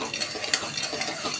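Sugar and water cook into syrup for kaju katli in a kadhai, giving soft bubbling and light scraping stirs with a brief metallic clink near the middle.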